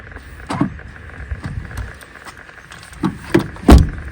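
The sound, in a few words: Rover 25 car being unlocked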